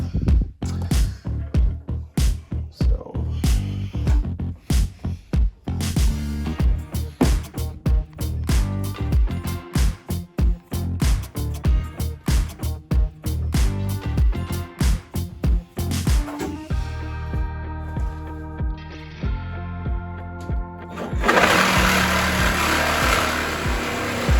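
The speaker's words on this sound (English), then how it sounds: "So we'll use the Sawzall and cut this off." A Sawzall reciprocating saw cuts off a stripped piece during an RV remodel with a loud, rapid rhythmic buzzing that pulses steadily, changes tone partway through, and gives way to a noisier burst at the end.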